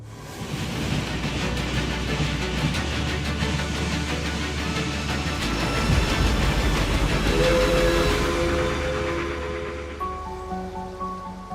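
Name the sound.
train on scenic railway, Southern Alps, New Zealand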